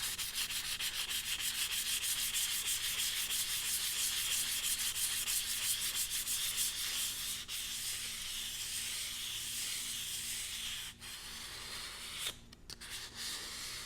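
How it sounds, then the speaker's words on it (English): Rapid, rhythmic wet sanding of natural wood with sandpaper and water, a steady hissing rasp up close that pauses briefly near the end. "you get into wet sanding, when you add water to it"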